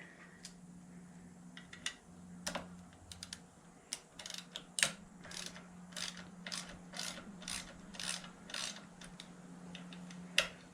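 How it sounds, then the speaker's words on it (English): Screws come out of the board of an ISX VGT turbo actuator held in a vise: a quiet workshop full of ratcheting clicks and short metallic bursts of a hand tool working, with no speech. "And I'm going to remove the board. And again, take the screws out."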